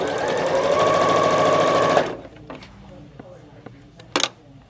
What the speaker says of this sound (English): sewing machine, stitch